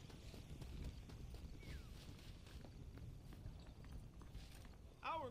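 Horse hooves clip-clop at a walking pace in the video game Red Dead Redemption: Undead Nightmare, steady and moderately close, with a short horse whinny near the end.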